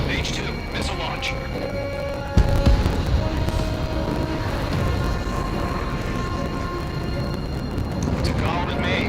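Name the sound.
missile launch in Ace Combat 7 video game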